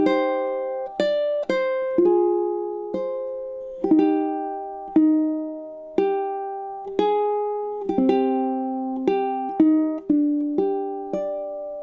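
Plucked ukulele chord melody playing measures 4 to 6 of the Japanese folk song Sakura, with clear separate strums and single notes ringing out one after another at a slow, steady pace, close and alone with no talking.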